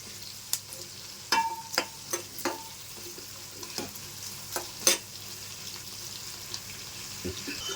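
Onions fry in plenty of oil in a pan for Nellore fish curry, a soft steady sizzle broken by scraping stirs and clanks of a spoon against the pan, close up with no clear talk.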